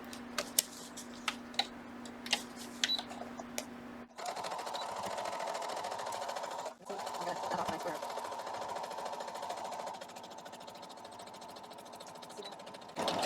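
A sewing machine stitches pieces of paper-pieced quilt fabric, running in a steady close whir for several seconds with a brief pause, after a quiet stretch of light ticking handling sounds.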